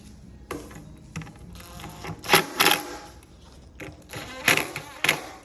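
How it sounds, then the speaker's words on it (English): Cam locks being tightened on an IKEA Sektion base cabinet, giving a series of sharp clicks and short ratcheting bursts in irregular clusters, close and fairly loud, with some talking in between. "We're just going to tighten these cams"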